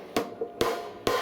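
Three hi-hat strikes in a home drum setup, evenly spaced with crisp, bright attacks and short ringing decays, played alone and close.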